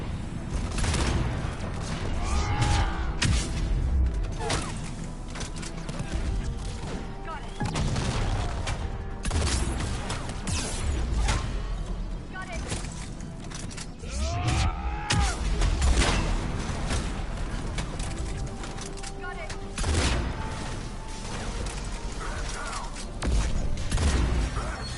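Sustained gunfire in a Mass Effect 3 firefight, dense bursts and booming shots rolling on with mechanical clanks, loud and continuous throughout.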